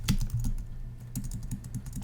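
Quick, steady clicks of fingers typing on a computer keyboard, close and clear, with a brief pause mid-burst before the keystrokes resume in a rapid run.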